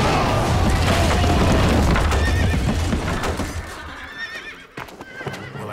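Horses neigh and whinny loudly amid a rumbling clatter of hooves, the commotion fading toward the end as the animals move off.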